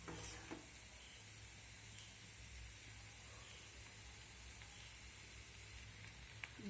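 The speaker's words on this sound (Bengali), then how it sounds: "এবারে যে ডিমের মিশ্রণটা উপর থেকে এইভাবে চালিয়ে সম্পূর্ণ অংশে দিয়ে দিতে হবে" Beaten egg mixture poured over chowmein in a hot pan gives a steady, soft sizzle and hiss that runs on evenly throughout, fairly quiet and with no talking.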